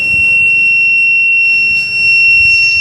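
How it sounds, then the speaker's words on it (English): A steady electronic buzzer tone from an obstacle-detection sensor holds continuously, loud and unbroken, with low background rumble underneath. "it would give a buzzer sound"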